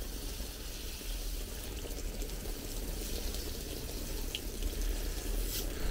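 Water pours steadily onto potted plants in a continuous, even splashing hiss that carries through without a break at moderate loudness.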